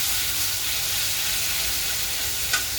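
Ground green chili, ginger and coriander paste hits hot oil in a tempering with fenugreek seeds, giving a loud, steady sizzle and crackle up close, a single small clink near the end, and no voices.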